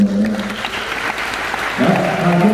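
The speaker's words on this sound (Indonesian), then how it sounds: "Tepuk tangan dong bagi teman-teman." An audience claps in a burst of applause at an Indonesian gathering, dense and steady throughout, briefly overlapping a voice.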